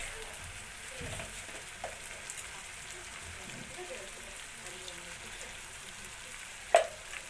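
Chickpea dal with spices, salt and turmeric frying in a pan, giving a soft, steady, low sizzle with a few faint stirring scrapes and one sharper clink near the end, while people talk quietly.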